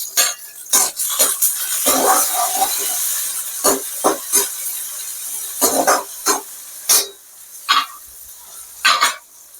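Tomato sautéing in a pan for a village-style keerai sambar, with a soft steady sizzle broken by repeated sharp scrapes and clacks from a stirring spoon against the pan.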